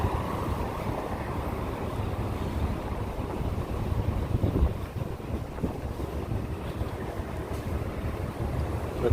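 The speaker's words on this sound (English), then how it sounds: "Yep, it's windy again, but really nice." Strong wind gusts across a Midtown Manhattan street near 57th Street east of Fifth Avenue on a spring day. The roar is broadband and continuous with a buffeting hiss on the microphone, loud throughout with no clear speech.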